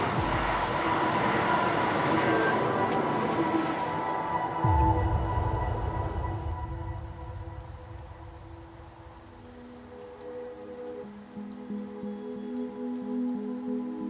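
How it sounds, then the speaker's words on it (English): A train rumbles past on a railway line, loud rushing and clattering at first, then fading into a lower mechanical hum as it moves away. "No, there's a train coming out."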